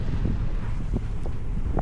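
Waves from a ferry's wake wash ashore near moored boats in the Sporades, a loud blustery rush of wind buffeting the microphone with splashing water underneath.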